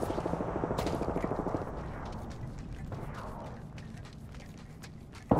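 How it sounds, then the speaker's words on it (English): Rapid automatic gunfire in the video game Apex Legends, a fast burst of close shots at the start that thins into scattered reports and a final sharp bang. "Opening fire."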